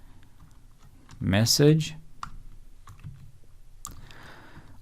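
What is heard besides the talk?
typing on a computer keyboard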